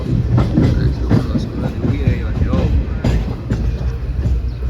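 A passenger train from Bhavnagar to Dwarka rumbles along the rails with rhythmic clickety-clack beats and metallic rattling, close and loud, while people talk underneath.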